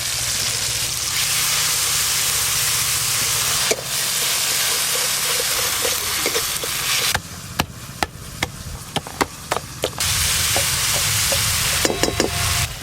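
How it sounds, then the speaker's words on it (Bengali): Spiced fish-curry masala of tomato and turmeric fries in hot oil with a steady bright sizzle, later broken by a run of sharp clicks and taps from stirring against the pan. "মশলা খুব ভালো করে কষানো হয়ে গেছে"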